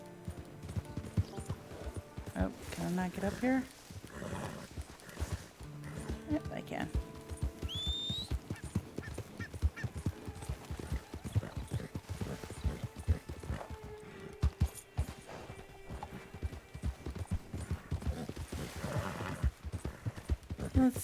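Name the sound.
horse hoofbeats in video game Red Dead Redemption 2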